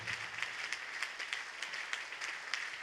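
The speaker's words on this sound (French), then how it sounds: "Acclame plus fort." Congregation applauding during a church service, a steady, fairly faint patter of many hands clapping with a loose rhythmic pulse, heard from a distance.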